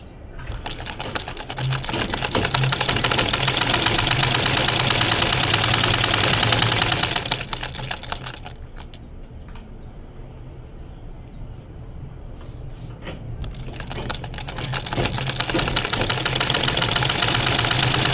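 An electric sewing machine runs steadily while stitching the side seam of a kameez, loud and continuous for several seconds, pausing to a quieter hum, then resuming near the end; no voice is heard.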